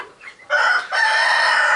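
A fat five-week-old meat chicken lets out loud, nearby harsh calls, one short squawk and then a longer sustained crowing cry.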